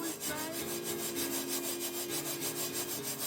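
Sesame seeds are dry-roasted in a pan and stirred. Quick, regular rasping strokes of a spatula scrape across the dry seeds in a steady back-and-forth rhythm, close and moderately quiet.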